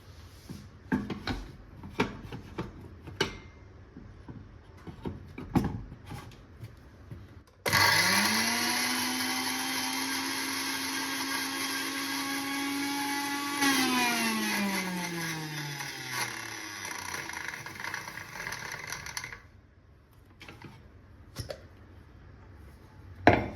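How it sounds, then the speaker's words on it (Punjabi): Green chutney ground into a smooth paste in a kitchen grinder: after faint clatter, a loud electric motor roars steadily for about twelve seconds, its pitch shifting as the load changes, then cuts off, followed by light handling knocks. "ਹੁਣ ਆਪਾਂ ਇਹਨੂੰ ਗ੍ਰਾਈਂਡ ਕਰ ਲੈਨੇ ਚੰਗੀ ਤਰ੍ਹਾਂ ਗ੍ਰਾਈਂਡ ਕਰਨਾ"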